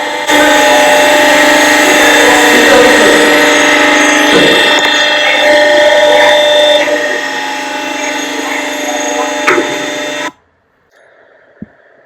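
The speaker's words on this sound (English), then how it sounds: "This is the piston that is moving down and pressing the plastic into the die." A hydraulic plastic moulding machine drives its piston down to press plastic into a die, a loud sustained mechanical hum with tonal whine and occasional knocks, which stops abruptly near the end, followed by a faint tone and a sharp click.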